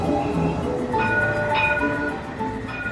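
A modern tram running through Zaragoza on overhead catenary lines gives a steady rolling rumble with faint tonal whines and rising hums, loud and continuous throughout with no talking.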